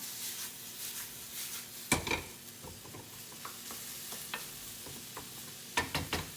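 Onions sweating with salt in a pan, a soft continuous sizzle with scraping stirs, and sharper clusters of utensil scrapes near the start and end.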